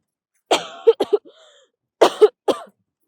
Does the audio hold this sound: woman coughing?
yes